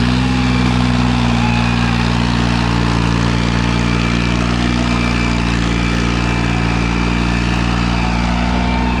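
A Farmtrac 60 tractor engine runs at a steady idle, a loud, even diesel rumble that stays close and constant with no voices over it.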